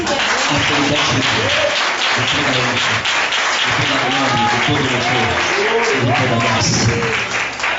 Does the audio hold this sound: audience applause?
yes